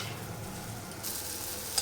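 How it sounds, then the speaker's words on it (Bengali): Masala spices frying in oil in a pan, giving a soft, steady sizzle close by with no voices, growing a little brighter partway through. "প্রথমে মশলাটা কষুক"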